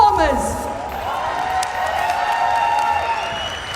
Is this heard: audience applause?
yes